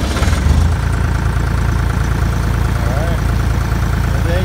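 The Deutz diesel engine of an Atlas Copco XAS 85 rotary screw air compressor on a trailer idles with a loud, steady, close rumble, and a faint voice is briefly heard over it.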